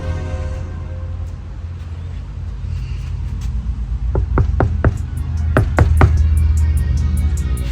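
Knuckles rap on the door panel of a 1996 Chevy OBS truck, a series of sharp, close metallic knocks in quick clusters over low engine-like rumble.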